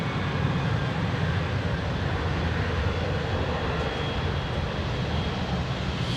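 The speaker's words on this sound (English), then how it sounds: "That coupled with the best climbing rate of any aircraft, the 747. She's gone up like a flipping skyrocket" A Boeing 747 climbing out after takeoff at Heathrow produces a loud, steady, broadband jet roar that holds constant throughout with no voices.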